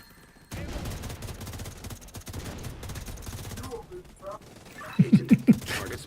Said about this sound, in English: The gun is still firing at full RPM